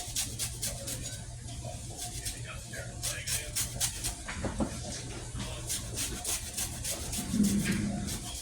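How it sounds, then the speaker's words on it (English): A whole lime scraped against a zester in a kitchen, making a close series of quick, uneven rasping strokes over a low steady background hum. "we're going to take a whole lime and we're going to zest it"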